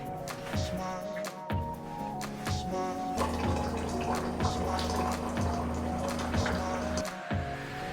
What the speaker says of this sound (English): So then I'm gonna go ahead and get 4 cups of hot water.